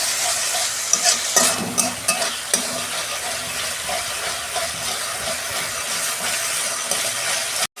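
Tomato paste fries in hot oil for a pabda fish curry, with a loud continuous sizzle and hiss broken by the scrape and clatter of repeated stirring near the pan.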